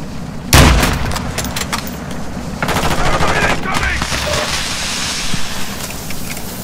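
Sustained automatic gunfire with a sharp burst near the start and continuous rattling shots in a Call of Duty firefight, loud and dense, with radio-style voices faintly mixed in.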